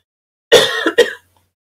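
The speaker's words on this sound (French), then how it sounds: "Pardon si je tousse beaucoup, je suis désolée." A woman gives a short, harsh throat-clearing cough, then a second quick burst a moment later, close and loud in an otherwise silent room.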